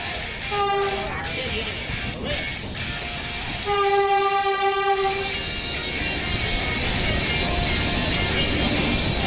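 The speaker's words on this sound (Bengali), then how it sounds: "ট্রেন এসে পৌঁছালো রামপুরহাট স্টেশনের 3 নম্বর প্ল্যাটফর্মে" The Saraighat Express, Howrah to Guwahati, pulls into platform 3 at Rampurhat station with a steady rumble, sounding a short horn blast and then a longer, louder one.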